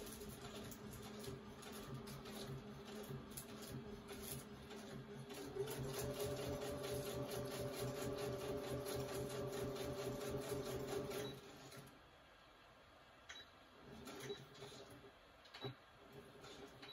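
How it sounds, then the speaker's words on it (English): A home sewing machine stitches a booklet, running steadily with a fast, even mechanical stitching chatter, speeding up and growing louder midway, then stopping abruptly near the end, leaving faint room sound and a few light clicks. "my sewing machine is still on"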